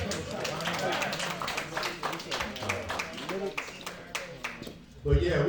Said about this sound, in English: Y'all give them a nice round of applause.